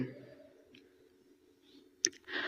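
A single sharp mouse click sounds near the end, brief and close, while someone fills in an online application form on a computer, set against faint room noise and soft vocal sounds.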